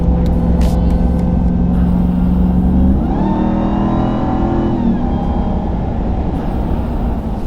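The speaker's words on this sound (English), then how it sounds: "Nothing like hearing a supercharger." A supercharged V8 engine in a 2022 RAM 1500 TRX rumbles loudly, then revs up with a rising supercharger whine before settling back to a steady, throaty idle.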